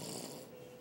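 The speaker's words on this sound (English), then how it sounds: "He says he don't snore." Man snoring: one brief, low, rasping snore breath, quiet and close, trailing off into soft breathing noise.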